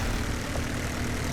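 A WWII-era propeller airplane engine in a video game drones as a steady, loud, broadband roar throughout, with no speech over it.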